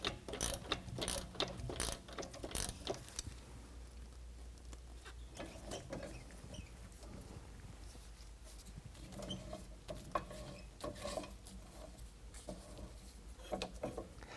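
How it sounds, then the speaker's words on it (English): On a 2022 Ford Maverick being fitted with a Superlift 2.5-inch lift kit, a strut is decompressed with a spring compressor, giving quick ratcheting clicks at first and then quieter, intermittent mechanical clanks and creaks. "now we can go ahead and reinstall our top plate with the spacer and decompress the strut"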